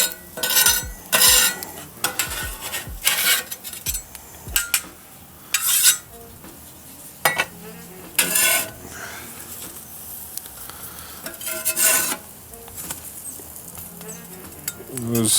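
A metal spatula scrapes and lifts fried onions and other crispy food off a hot sizzling griddle while making Philly cheese steak and chopped cheese, in repeated loud clanking scrapes over a steady background sizzle.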